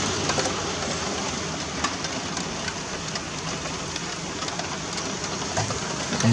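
Steady rain keeps falling after a moderate thunderstorm in Sallanches in the Alps, with snow close by, making a dense, even hiss with scattered drops, moderately loud and continuous with no voices.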